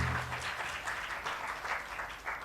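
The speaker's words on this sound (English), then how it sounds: "a huge round of applause for yourselves first." An audience at a live sports event in Delhi gives a round of applause, a dense, steady patter of many hands clapping at a distance, fairly faint and continuing throughout.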